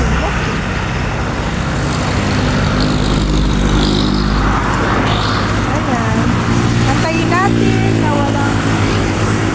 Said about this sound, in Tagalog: Sasakyan bago tayo tatawid.